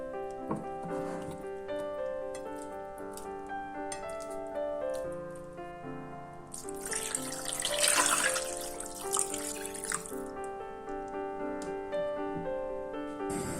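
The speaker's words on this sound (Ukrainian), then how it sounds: "Прикладаємо в глибоку каструлю та заливаємо водою." Water pours steadily into a deep cooking pot holding goose legs, breast and other meaty pieces, a loud rushing burst of a few seconds in a home kitchen over continuous background music.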